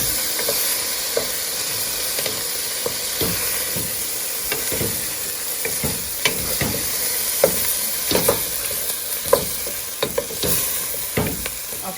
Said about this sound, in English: Okay, so I'm gonna just let this saute for about 2 to 3 minutes.